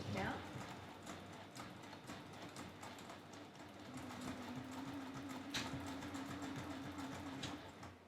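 A home sewing machine stitches down a fabric tab on a sling bag, its steady mechanical clatter running continuously, loud and close, with a speaking voice now and then over it.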